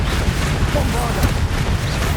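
A Bombarda spell explodes in the Hogwarts Legacy video game as a loud, dense, rumbling blast that fills the whole moment, with heavy low booming and a sharp crack near the middle.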